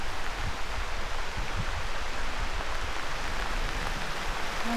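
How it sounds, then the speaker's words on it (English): Steady rain pours down in the mountains, a dense, even hiss of water hitting surfaces close around, constant and fairly loud with no voices. "It just started to rain."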